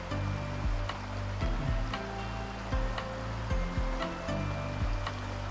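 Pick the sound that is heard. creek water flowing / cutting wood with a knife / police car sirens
creek water flowing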